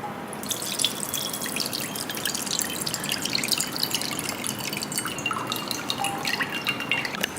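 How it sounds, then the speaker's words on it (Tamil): Rice being washed by hand in water, pressed and rinsed twice to lift off dust: steady close watery sloshing and dripping trickles run continuously without a break, with no talk over them. "ஸோ நல்லா இந்த மாதிரி அழுத்தி 2 தண்ணி கழுவி எடுத்துக்கலாம்."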